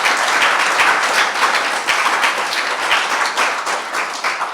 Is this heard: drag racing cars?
no